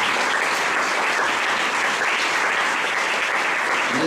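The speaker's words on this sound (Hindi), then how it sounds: "इसलिए आपके लिए ताली बजाएंगे।" An audience claps steadily and loudly throughout, a dense wash of applause with no pauses, filling the whole stretch without talk.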